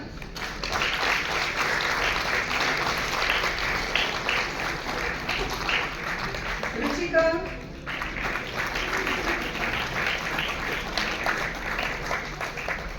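Audience applause at a ceremony handing appointment letters to newly appointed teachers in Chandigarh, steady clapping running under a voice calling names, briefly dipping midway before resuming.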